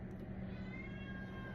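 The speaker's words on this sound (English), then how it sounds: "she is meowing, and I'm not sure why she's meowing" A pet cat meows indoors in a house with stairs, a faint, drawn-out call over low background rumble with no talking.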